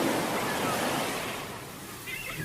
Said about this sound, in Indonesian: Akhirnya bisa ke pantai lagi.